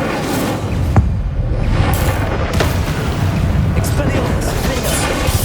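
Spell blasts from Flipendo and Incendio cast in the Hogwarts Legacy video game while fighting Inferi: a few sharp booming bursts over a dense, continuous rumble of battle noise, fairly loud throughout.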